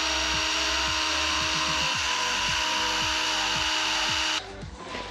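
Power tool threading a bolt hole on an MX5 front suspension part in a garage, a steady loud motor whine with repeated low rhythmic clunks, then cutting off near the end.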